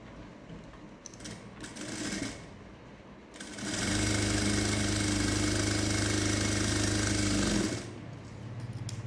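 An electric sewing machine stitches along the canvas of a 48-inch cup-dart blouse, with short bursts at first, then one long steady run of rapid whirring lasting several seconds before stopping, close and loud.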